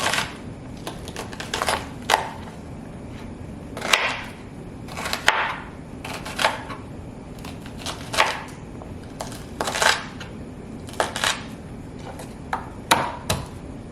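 Zucchini or vegetables being smashed and peeled on a kitchen cutting board during vegan meal prep, with a series of sharp crushing knocks at irregular intervals over a steady low background, close and fairly loud, and no talk.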